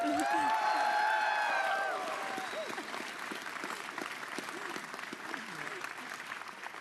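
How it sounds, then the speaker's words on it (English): Convention audience at a Conservative plenary session breaks into broad applause, loud at first, then thinning into scattered claps as a voice talks over it. "That deserves a louder applause."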